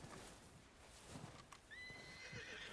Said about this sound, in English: I see you're a horse.